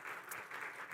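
Congregation applauds to welcome two visiting guests in a church, a brief, steady patter of hand claps heard at a distance.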